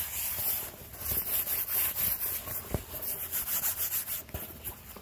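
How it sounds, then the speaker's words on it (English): Continuous scratchy rubbing of a Xiaomi 10 liter backpack's fabric, close up, with brisk back-and-forth swishes and a couple of sharper scuffs. "I'm gonna let you guys hear the sound of material."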